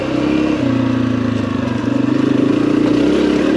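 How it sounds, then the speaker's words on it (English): A Honda 250F off-road dirt bike rides a trail with a loud, close, steady engine drone that shifts pitch slightly as the throttle changes, no voices over it. "this 250F is on the low end of Honda's purely off-road bikes"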